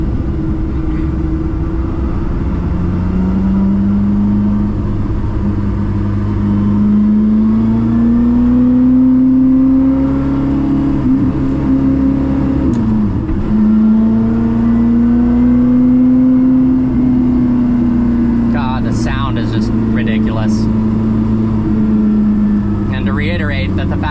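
Koenigsegg CC850 engine revs loudly while driving at low road speed, its tone rising and falling in long sweeping swells with a steady drone throughout and a few brief higher chirps near the end.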